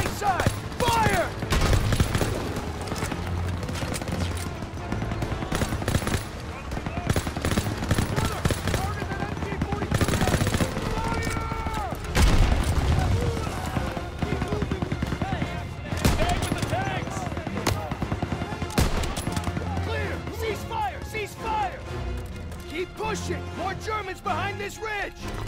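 Dense World War II battlefield gunfire from the game Call of Duty WWII, with MG-42 machine gun bursts amid a continuous fusillade and explosions, loud throughout the clip with shouted voices mixed in.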